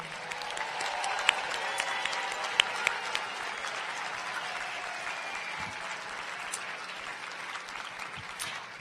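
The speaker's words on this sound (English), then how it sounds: "Let's have one more round of applause for all the graduates today." Sustained applause from a large audience at a university graduation ceremony honoring the graduates, a dense steady patter of many hands clapping throughout with a few sharper claps standing out, and no talk over it.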